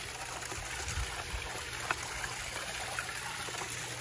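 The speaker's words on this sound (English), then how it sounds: "So it's got a nice waterfall feature." Water from the waterfall feature of a shared outdoor pool pours in a steady, even rush, a constant splashing wash with no pauses and no voices over it.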